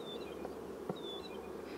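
Honeybees buzz in a steady drone around an opened backyard hive in August, with a few louder individual bees passing close over the continuous hum and one brief soft tap.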